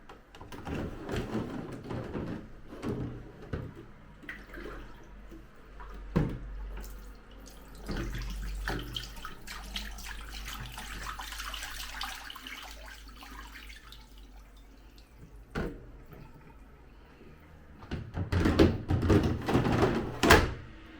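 Water from a clothes dryer's collection tank is poured out into a sink, splashing and trickling in uneven bursts with a few clunks and knocks, ending in a louder gush.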